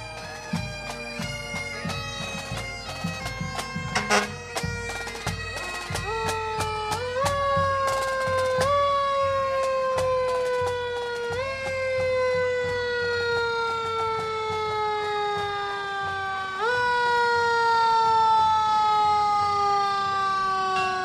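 Fire engine sirens wail in a St. Patrick's Day parade on Spring Road in Elmhurst, loud and rising and falling in pitch over street noise, with sharp horn blasts near the start.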